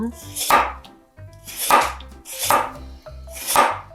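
A knife chops carrot on a cutting board in four crisp, evenly spaced strokes, each a sharp knock against the wood, heard close and alone.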